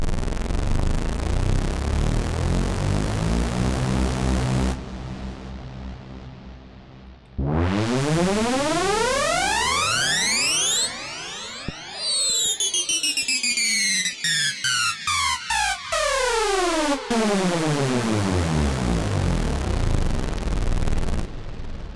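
Synth tones glide in long sweeping pitch slides, several layered voices rising and falling across each other, loud and continuous with a few abrupt cuts.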